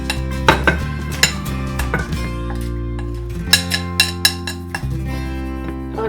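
Spoon clinking and scraping against a bowl while Konkani masala spice powder is mixed, a steady run of metallic taps and scrapes at close range with sharper clinks bunched together midway.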